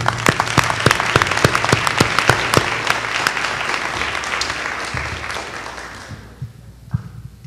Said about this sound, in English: can you give them guys a round of applause for coming out tonight?